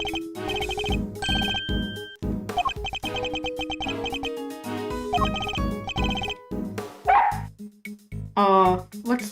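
A cartoonish dog barking in the video game Ace Attorney Investigations 2, short yapping barks mixed with chirpy game music and jingles.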